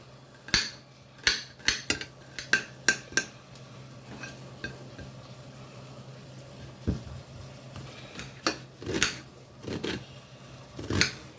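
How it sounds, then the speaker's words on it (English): Garlic and onion being roughly chopped with a knife on a cutting board, sharp repeated knocks coming in quick bursts with quieter pauses between them, close and fairly crisp over a faint background hum. "let's chop up our garlic and onion"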